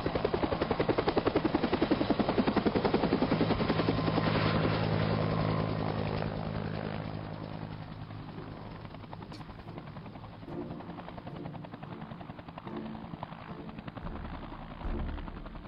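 A helicopter in an animated super-soldier fight gives off a loud, steady rotor and engine roar that eases to a lower rumble partway through, with a few faint bursts of action noise near the end.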